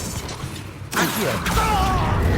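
An Accio summoning spell is cast in Hogwarts Legacy: after a quiet, low ambient bed, a sudden magical whoosh bursts in, followed by shimmering, swirling tonal sweeps that linger close and fairly loud.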